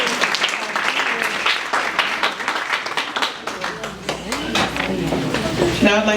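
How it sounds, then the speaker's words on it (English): An audience at a community gathering on opioids claps for a speaker, a full round of applause with voices and chatter mixed in over the clapping. "Another round of applause for Alicia"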